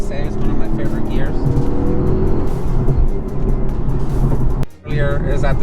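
A 2009 Nissan 370Z Touring with a six-speed manual makes a quick downshift into third, its engine revving hard and loud up close, briefly dropping off before the rev climbs again, with someone talking over it.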